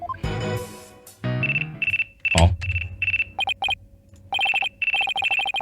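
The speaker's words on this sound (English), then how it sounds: "Looks like I have a phone call." Ringtone of a phone in the Phoenix Wright: Ace Attorney – Dual Destinies video game: after a short musical sting and a thump, rapid electronic trilling rings sound in repeated bursts separated by brief pauses, loud and clear with no talking.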